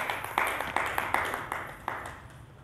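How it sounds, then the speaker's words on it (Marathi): A small satsang gathering claps to welcome guests, with irregular individual claps standing out sharply at first, then softening and thinning out toward the end, in a close indoor room. "त्यांचं आपण टाळ्या वाजवून स्वागत करू"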